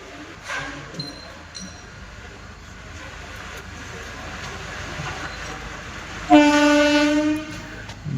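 The Hadapsar–Kazipet Express passenger train rumbles past steadily, then a loud, sustained horn blares for about a second near the end.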